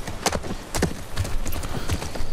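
Horse hooves clip-clopping in The Last of Us Part II on PS5, with a slow, uneven series of sharp hoof strikes over a faint outdoor background. No one speaks.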